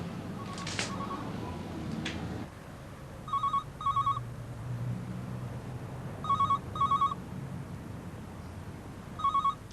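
A telephone rings in repeated double trills, three pairs spaced evenly across the stretch, clear and fairly close over a low background murmur, after a brief earlier clatter.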